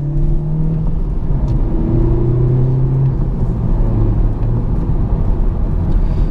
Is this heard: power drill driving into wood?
no